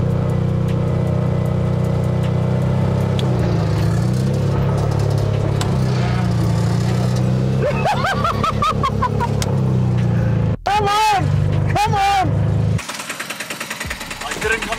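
A Piaggio Ape Calessino three-wheeler on a runway drag strip at the start line, its small engine droning steadily, then revving and clattering in bursts with gear changes, loud and close, with people talking over it.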